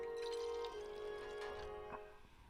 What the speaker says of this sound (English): It's hard to pour when it's up in your face like that.